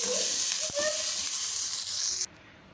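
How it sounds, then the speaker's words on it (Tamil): An eggplant mixture with curry leaves sautés in a pan, giving a soft, continuous sizzling hiss that cuts off abruptly near the end. "இது எல்லாத்தையும் சேர்த்துட்டு நம்ம நல்லா வதக்க வேண்டிதான்"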